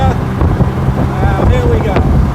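A Jaguar E-Type engine revs under a bit of throttle, a steady loud rumble with rising pitch through the middle, mixed with wind buffeting and a voice speaking over it.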